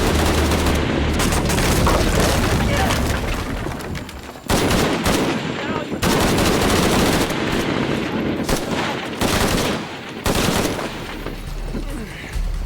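Sustained gunfire in Shadow of the Tomb Raider as enemies shoot at a shield-bearing target: dense, loud bursts of automatic fire with short pauses, heavy booming impacts and game effects throughout.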